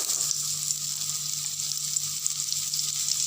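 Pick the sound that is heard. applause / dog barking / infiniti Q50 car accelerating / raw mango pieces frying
raw mango pieces frying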